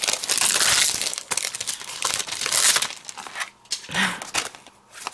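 Sheets of pearlescent paper are handled and crinkled during card making, producing loud, bright rustling and crumpling in close bursts, easing off briefly before a short low thump near the end.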